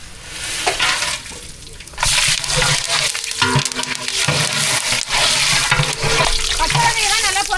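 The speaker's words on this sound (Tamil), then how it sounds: "அது கூட வந்து பட்டை கிராம்பு சேர்த்துக்கலாம்." Cinnamon and cloves hit hot oil in a pot for seeraga samba mutton biryani. A loud, close sizzle and crackle runs throughout, broken by clinks and scrapes of stirring.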